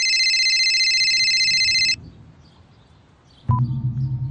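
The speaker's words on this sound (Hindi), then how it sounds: "तभी मेरा फोन बजा।" A mobile phone rings in a tense crime drama scene, a loud steady electronic tone sounding alone for about two seconds before cutting off, followed by quiet room noise and then a music sting.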